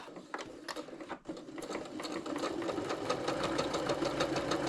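A sewing machine stitches lining and outer pieces with interfacing for a mini fabric basket, running in a steady, quick mechanical rattle that pauses briefly near the start, then builds and holds evenly, close and fairly quiet.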